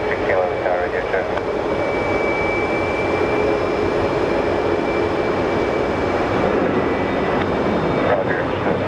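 An Embraer jet hums steadily at Sky Harbor Airport, a continuous engine drone with radio chatter over it.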